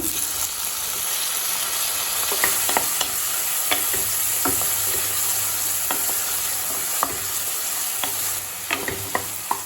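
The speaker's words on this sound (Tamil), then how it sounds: "கடாயில் தேவையான அளவு எண்ணெய் ஒரு வெங்காயத்தை சேர்த்துக்கலாம் ஒரு தக்காளி" Onion and tomato fry in oil in a kadai for brinjal and drumstick sambar, a constant close sizzle punctuated by scattered sharp spatula clicks as the pan is stirred.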